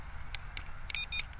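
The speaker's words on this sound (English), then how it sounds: "if you press it once, you hear the beep sound, and the amount of beeps you hear tells you the flying rate" JJRC H26 drone remote control giving short electronic beeps, two distinct tones near the end over faint background hum, indicating the selected flying rate.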